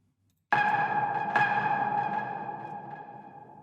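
Synthesized ping effect built in a sampler with an amplitude envelope shaping it: a single sharp bright tonal strike with a sustained ringing harmonic tail that slowly decays, alone and clean.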